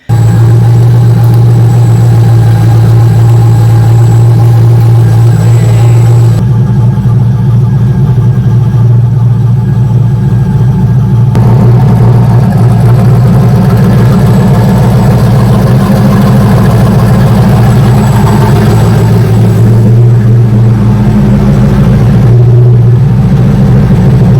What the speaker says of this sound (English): So the car was idling here for, it's been quite a while now